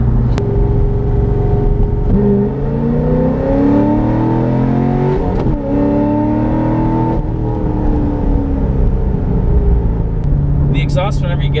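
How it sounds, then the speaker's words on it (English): A Chevrolet Corvette C6 Z06 with a Corsa Sport exhaust revs hard and close, its loud engine note climbing and falling in several sweeping surges over a continuous rumble, with a few high clicks near the end. "exhaust, whenever you get on it, just screams, and I'm sure it sounds absolutely insane from the outside"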